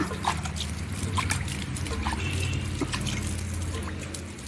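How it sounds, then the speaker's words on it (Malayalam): Liquid sprinkled by hand over a curry leaf plant, giving soft scattered drips and patters close by over a steady low hum. "ഇപ്പം ഞാൻ കൈ കൊണ്ട് തന്നെ തളിച്ചു കൊടുക്കുകയാണ്"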